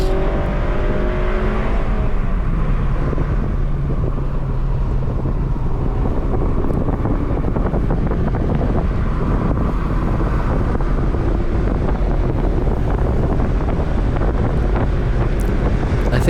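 A Ford Fusion family sedan runs flat out at about 95 to 100 mph down a race-track back straight at GRIDLIFE NCM 2021, heard from inside as a constant loud roar of wind buffeting over a low engine drone, with no talking.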